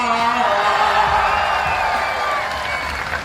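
A political poetry crowd claps and cheers in a broad, sustained roar with whoops on top, thinning slightly toward the end, and a voice rises briefly through the noise.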